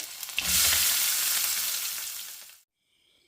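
Crushed ginger and onion drop into hot coconut oil and burst into a loud, close sizzle that slowly fades over a couple of seconds before cutting off, with no talking.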